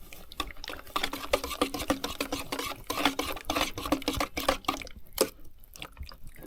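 Wine-making mixture being stirred in a pot for a beginner's water-to-wine batch, a steady run of close, irregular clinks and sloshing scrapes with brief pauses near the end.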